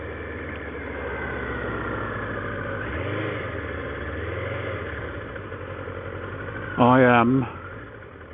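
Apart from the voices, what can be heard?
vehicle engine idling at the start of a ride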